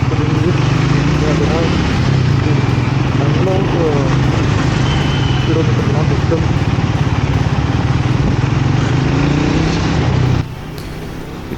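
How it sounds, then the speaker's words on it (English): A Triumph Speed 400 with a 398cc liquid-cooled single-cylinder engine runs steadily and close by, a continuous low exhaust drone holding for about ten seconds before dropping away, with a voice talking over it. "The bike itself is much lighter and the exhaust note is very sweet"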